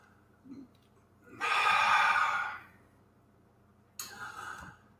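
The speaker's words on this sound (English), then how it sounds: "Deep breathing." Deep breathing during a yoga pose, a long audible breath lasting over a second followed later by a shorter exhale, heard close in a quiet room.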